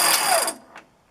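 A winch on a 1973 Toyota Land Cruiser FJ40 briefly tightens its cable with a short, loud mechanical whir and ratcheting buzz that cuts off, followed by a faint click.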